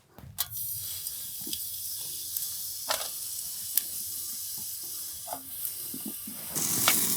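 Steady frying sizzle from foraged mushrooms in a pan at a campsite, a dense crackling hiss with occasional louder pops and spits, no voices.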